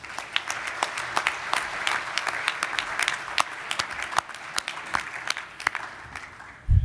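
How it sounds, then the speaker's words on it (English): An audience at a business session gives a round of applause, steady dense clapping from many hands carrying on throughout, fairly close and even, with no speech over it. "Maybe another round of applause."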